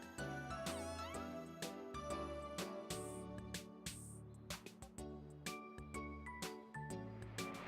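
A cat meows faintly in the video game Omori. The quiet calls are mixed into busy, tinkling game music that continues throughout.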